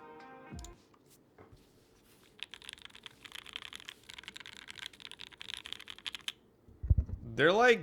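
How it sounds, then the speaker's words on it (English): Rapid, quiet clacking of keys on a mechanical keyboard, a steady burst of typing that stops near the end before a brief voice. "I'll do a typing test and then we'll get underway"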